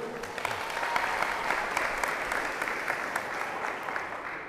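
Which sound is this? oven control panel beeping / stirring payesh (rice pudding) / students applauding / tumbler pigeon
students applauding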